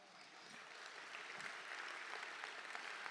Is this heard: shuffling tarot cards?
no